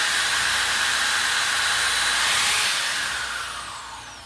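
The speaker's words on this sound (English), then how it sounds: "So I'll drill a hole for them real quick." Power drill boring holes through a fiberglass Clevon mask mold, a loud high whining spin that winds down toward the end, close up and alone.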